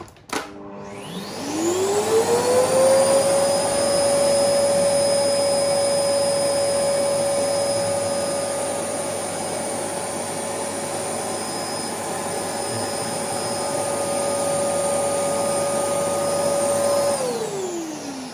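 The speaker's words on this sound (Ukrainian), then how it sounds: "Наступний наш пацієнт це пилосос на 1800 Вт" An 1800 W vacuum cleaner powered by an EcoFlow Delta 2 portable power station starts up with a rising whine, runs loud and steady for about fifteen seconds, then winds down.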